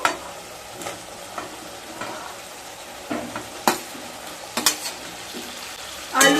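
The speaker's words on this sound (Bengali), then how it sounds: "এরপর ভেজে রাখা আলু আর পটল দিয়ে দেবো" Fried potato and pointed gourd (potol) added to cooked-down spices and stirred, with a soft background sizzle broken by scattered spatula scrapes and knocks against the pan, close by and without talk.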